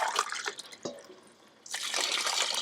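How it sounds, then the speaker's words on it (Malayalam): Water from a glass pours into a pot of rice for Christmas Madhuram biriyani, splashing near and loud, pausing briefly, then resuming in a fuller rush. "6 ഗ്ലാസ് വെള്ളം ഒഴിച്ചു"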